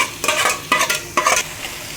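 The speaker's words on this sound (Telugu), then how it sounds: "మనం ఫస్ట్ ఉడకబెట్టుకున్న చికెన్ అయితే వేసేద్దాం" Boiled chicken going into masala frying in oil, heard as three loud, close scraping-and-sizzling stirs in quick succession over a steady hiss.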